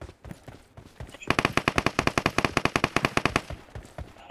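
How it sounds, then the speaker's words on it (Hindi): Automatic gunfire in the video game PUBG Mobile, a rapid burst of about twenty sharp, evenly spaced shots at close range, preceded and followed by a few scattered single shots. "थोड़ थोड़ उसका मतलब वो गन नहीं क्या, थोड़ थोड़ आवाज आता है"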